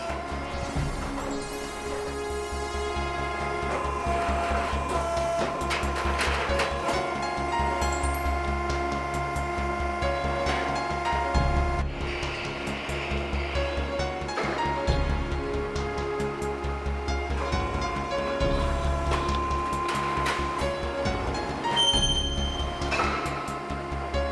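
A Preda CNC auto duct line for HVAC ductwork runs automatically, with steady loud machine hum and repeated clanks and metallic impacts throughout, no talking.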